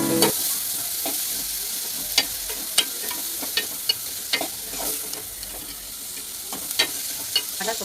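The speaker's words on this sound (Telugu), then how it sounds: "టమాటా ముక్కలు వేసి బాగా కలపాలి." Tomato pieces fry in a pan with green chillies while a spoon stirs them, giving a steady close sizzle broken by repeated sharp scraping taps, with no talk.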